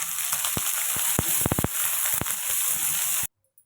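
Mustard seeds, dried red chilies, onion and green chilies sizzle loudly in hot oil for sweet potato rice, a dense steady frying hiss broken by sharp popping crackles, before cutting abruptly to silence.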